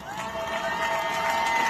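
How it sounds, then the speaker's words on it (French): Outdoor crowd at a trail race awards ceremony cheers and claps, a sustained wash of voices and applause building slightly louder toward the end. "Vous pouvez les applaudir très très très fort"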